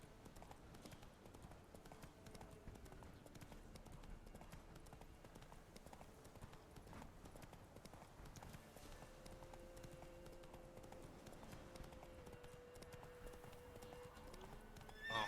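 Roach, a horse in The Witcher 3, gallops with a steady clip-clop of hooves and lets out whinnying neighs, the game's sound playing at low volume with a few quiet words spoken over it.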